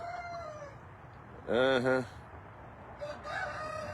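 A rooster crows once, loud and close, over a quiet yard with faint clucking from hens before and after.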